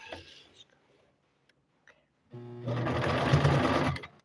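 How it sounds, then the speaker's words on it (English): A sewing machine running a regular zigzag stitch on a shirt, back-stitching briefly; after a few quiet seconds with faint taps, the motor starts and hums steadily and close for about two seconds. "I'm gonna go back stitch a little bit so it doesn't come apart. I'm just doing zigzag, just a regular zigzag."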